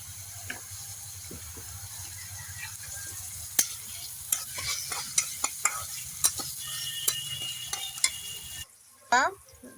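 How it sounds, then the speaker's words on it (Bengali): Onions fry in a pan in a village kitchen with a soft, steady sizzle, punctuated by sharp clicks and scrapes of stirring, before a brief, louder clatter at the very end. "আমি এখানে পেঁয়াজগুলো ভাজে নিচ্ছি"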